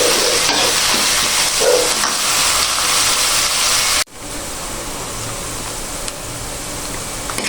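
Ginger and onion masala for kadhi pakora sizzles and crackles steadily in a hot pan while being stirred, close and loud, with a sudden cut partway through before the frying hiss resumes.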